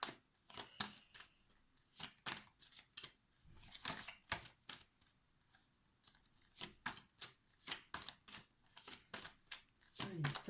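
Tarot cards are shuffled and drawn by hand, a quiet, close run of quick riffling slaps and flicks in uneven bursts, with soft speech alongside.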